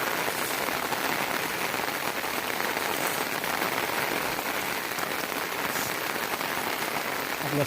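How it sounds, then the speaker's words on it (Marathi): A hard downpour drums on the ground and roofs of a Konkan farming village, a thick, constant roar of raindrops that stays loud and unbroken throughout. "मस्त पाऊस पडतो एकदम जोरात."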